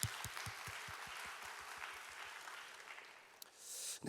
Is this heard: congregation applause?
yes